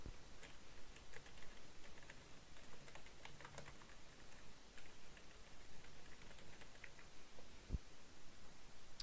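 Typing on a computer keyboard produces soft, quick clusters of key taps over a faint hissy background, very quiet and continuous, with no talk.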